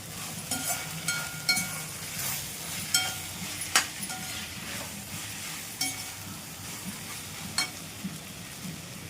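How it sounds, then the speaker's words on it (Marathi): Fried vegetables are sautéed with softened tomato in an oil tempering for vegetable pulao. A continuous sizzle carries repeated scraping stir strokes, with occasional sharper scrapes, and no speech. "फोडणीमध्ये चांगल्या परतून घेत आहे।"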